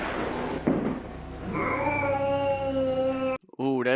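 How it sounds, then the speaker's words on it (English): Angry cat yowling in a long, drawn-out wail that rises and wavers over a couple of seconds, followed by a brief gap and a sharper bending cry, with a thump and background noise before it. "That is a very angry kitty."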